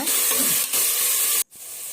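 Coriander and mint leaves sauté in a hot oiled pan for vegetable biryani, a loud, close, continuous sizzle and hiss that briefly cuts out near the end, with no talk.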